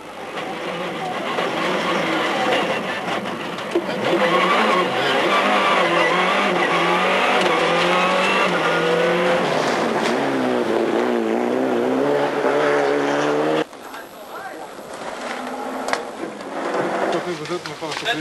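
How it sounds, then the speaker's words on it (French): A Toyota Corolla rally car brakes hard on a snowy forest stage and runs off the road during the 1999 Boucle de Spa rally, its engine loud and close, with a commentator talking over it before a sudden drop to quieter sound. "Sur un gros freinage, la Corolla va sortir de la route."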